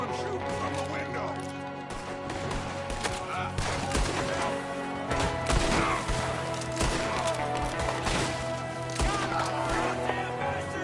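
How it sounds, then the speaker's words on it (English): Gunfire rings out from a window in Red Dead Redemption 2, with dense, rapid, overlapping shots and crashes under a constant wash of game sound and music, loud and continuous throughout. "There's another one shooting from the window."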